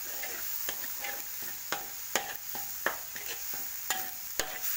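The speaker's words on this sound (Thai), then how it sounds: "เอาไปปั่นรวมกันเลยนะคะแล้วก็มาผัดให้หอม" Galangal, garlic, shallot and dried chili paste stir-fried in a pan, with a steady soft sizzle and repeated scraping, tapping spatula strokes against the pan, close and moderately loud.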